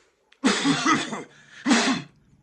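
A person imitates a cough with a voice, two harsh forced bursts close to the mic, the first longer and the second shorter, separated by a brief quieter gap.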